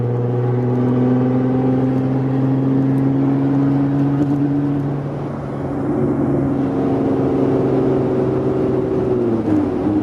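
Jeep Wrangler Rubicon JL with a 3.6L engine and its muffler and resonator removed, pulling hard through the gears: a loud, steady exhaust drone that rises in pitch, dips briefly at a shift, then climbs again before easing off.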